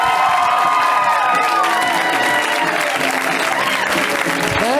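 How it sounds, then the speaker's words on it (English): A comedy club audience at a stand-up show breaks into loud, sustained applause with cheers and whoops for a comedian leaving the stage, while a host briefly thanks the crowd over the clapping. "You guys give it up for Matt."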